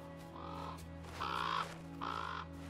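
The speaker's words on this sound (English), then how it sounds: "A crow, from the sound of it." Crow cawing in the Until Dawn video game forest, three separate harsh caws, the second louder, set against a steady low ambient hum with no voices.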